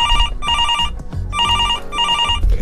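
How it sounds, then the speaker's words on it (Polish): A telephone in a radio studio rings loudly in repeated double bursts of bright electronic trilling, each burst separated by short pauses, with some low background noise between rings. "Zawsze ktoś do nas dzwoni."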